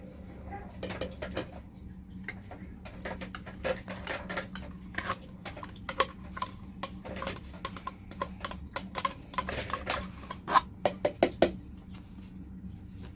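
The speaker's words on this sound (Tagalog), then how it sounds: "At lagyan natin ang ating yogurt." A spoon scrapes and taps yogurt into a container of overnight oats, a run of irregular clinks and soft knocks that grow busier toward the end, close up with faint room noise.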